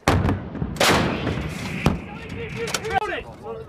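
U.S. Marines fire an M777 howitzer during training, heard as sharp, loud blasts cutting through continuous shouting, with the crew calling out commands between shots.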